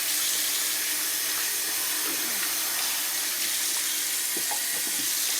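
Steady rush of water from a tap during a thorough double hand wash, continuous and fairly close, with faint splashes and small clatters near the end; no voices.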